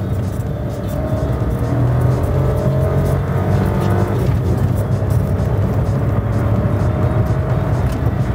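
A Daewoo Matiz is driven fast across a field, its small engine droning steadily near and loud with rumbling road and body noise throughout.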